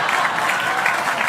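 Audience applause at a comedy show, a brief burst of brisk, dense clapping from the crowd, loud and close throughout.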